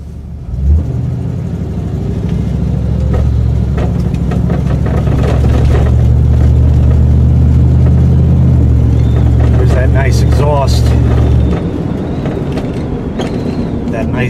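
A Buick with a V8 engine idles with a deep, steady rumble, then revs in a few short bursts before settling, loud and close, with a person talking over it.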